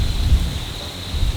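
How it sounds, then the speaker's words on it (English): Low, blustery rumble of wind buffeting the microphone, with a faint steady high tone above it. "it's really so windy"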